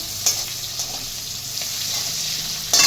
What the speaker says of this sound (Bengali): পেঁয়াজ দিলাম পেঁয়াজটা একটু লাল করে ভেজে নেব